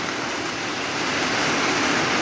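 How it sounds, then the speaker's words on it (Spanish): Rainwater rushes loudly through Quebrada Grande in Olancho after a downpour, a dense continuous roar of flowing water close by, steady and unbroken throughout. "Se vino el agua en esta zona de Quebrada Grande Olancho, miren."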